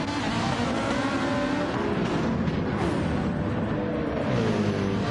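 Race cars at Laguna Seca in a racing game, including a Lamborghini and a Porsche battling closely, engines roaring loudly and continuously with rising and falling revs as the cars pass.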